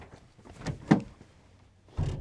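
The rear tailgate of a 4WD rig being opened, giving a couple of dull close thunks and a latch clunk, with a second soft knock a moment later.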